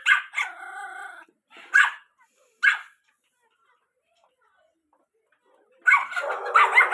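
A guard dog at a house barks in several sharp bursts, a run of quick barks followed by two single barks, then silence before a louder, rougher burst of barking near the end.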